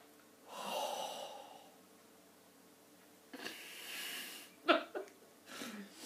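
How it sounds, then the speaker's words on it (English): A slow, deep breath is drawn in and let out, a soft airy inhale and exhale, followed by more breaths and a brief sharp snort or laugh, all fairly close and quiet. "Take a deep breath."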